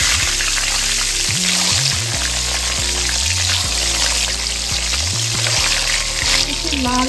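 Eggs fry in hot oil for a Bengali mutton dak bungalow, a dense, loud, continuous sizzle that runs throughout beneath a steady musical backing.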